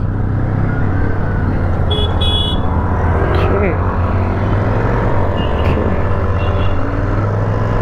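A Royal Enfield Shotgun 650 motorcycle's engine pulls under throttle on a test ride, a loud, constant low rumble from close by with wind noise, while a rider talks over it.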